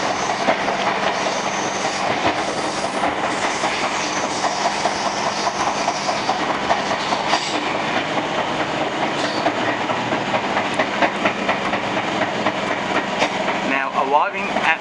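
Steady rumble and clickety-clack from inside a Sydney S set train arriving at Blacktown station, loud and continuous, with faint rain and a brief squeal near the end; a voice speaks over it.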